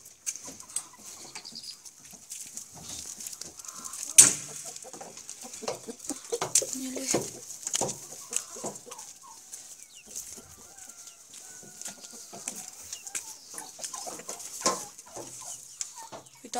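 Hens in a farmyard coop cluck in scattered, irregular bursts at moderate distance, with a steady high hiss of insects or background noise and one sharp louder peak partway through; no one talks.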